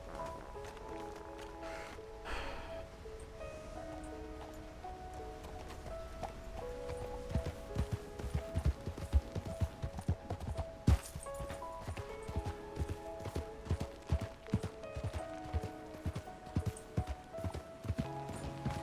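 Horse hooves clip-clop in a steady, rhythmic gait in the RedM roleplay game, with background game music and sound behind the footfalls.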